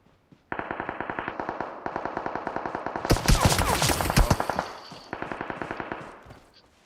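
Gunfire in the PUBG video game on the Livik map comes as rapid automatic bursts in several rhythmic strings, loud and close, with a denser flurry of overlapping shots in the middle.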